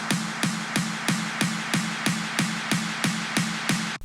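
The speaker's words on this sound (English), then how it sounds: "layering an acoustic snare along with a more stadium clap" Layered acoustic snare drum and stadium-style clap samples in an EDM/rocktronic build-up, hitting in a steady, even pulse about every half second, loud and punchy with a bright, wide crack on each hit.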